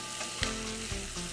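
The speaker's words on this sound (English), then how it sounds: "And just toss to coat all of that in that butter." Diced root vegetables, garlic and cranberries frying in butter in a pan, a steady close sizzle with faint stirring scrapes over about a second and a half, no voices.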